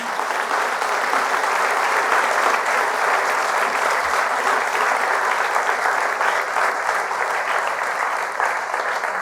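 A church congregation breaks into sustained, vigorous applause during a priest's service, the clapping thick and continuous from start to finish.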